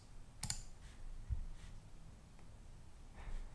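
A computer mouse clicks a couple of times while someone manages domain DNS settings: two or three soft, brief clicks spaced about a second apart over a quiet room hum, with no talking.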